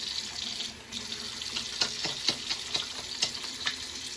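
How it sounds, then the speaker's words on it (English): Tap water runs into a sink beside a HeadBlade Moto shaving setup as water is worked into thick shaving cream, a steady hiss broken by soft wet splashes and dabs. "Let's see what happens when we introduce some water to it."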